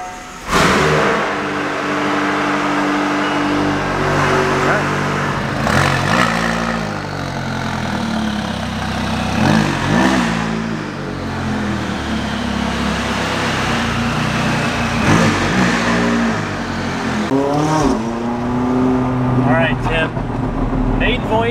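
A McLaren 570S race car, newly fitted with an AP Racing big brake kit, drives with repeated engine revs rising and falling in bursts, while people talk over it.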